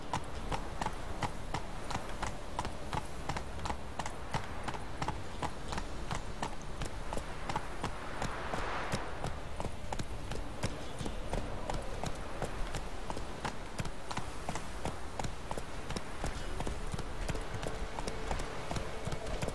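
Steady clip-clop of a horse's hooves trotting along in The Witcher 3 game, a continuous even rhythm at moderate volume throughout with no talking over it.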